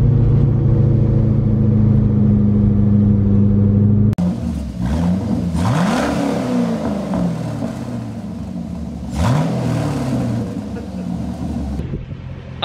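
A Chevrolet Corvette with its muffler deleted idles with a loud burbling drone, then its engine revs twice in rising, sweeping bursts that settle back to a rough, loud idle.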